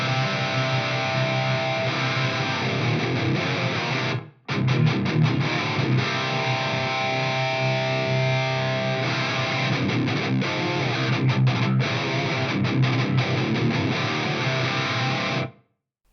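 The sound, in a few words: guitar with extreme reverb room simulation on Fractal FM3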